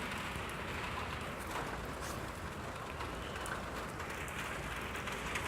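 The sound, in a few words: rain falling outside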